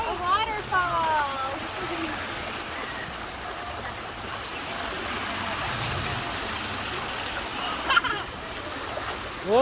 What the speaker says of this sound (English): Ooh, wow. Do you like that? A waterfall.